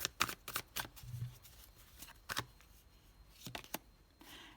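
Tarot cards are shuffled and laid out on a table: a series of crisp, papery riffles and slaps come in short bursts with quiet pauses between them, close and fairly soft.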